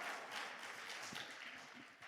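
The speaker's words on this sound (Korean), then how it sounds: "목사님 나오실 때 할렐루야를 하나님께 영광의 박수를 드립니다" A church congregation at a fasting prayer retreat applauds as the pastor comes forward, a soft, even patter of many hands clapping in a large hall.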